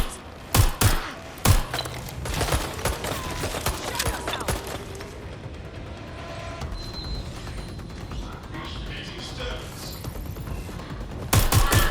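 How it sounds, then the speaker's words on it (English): Gunfire in the video game Watch Dogs: Legion, with loud bursts of shots and thuds at the start and again at the end, separated by a stretch of softer background game sound. "I'm getting shot at here!"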